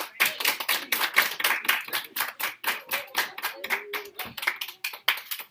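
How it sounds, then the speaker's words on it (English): A sixth grade class claps for a student, rapid individual hand claps at close range, fairly loud and uneven, fading toward the end, with a voice briefly heard over them. "Give Jesse a round of applause,"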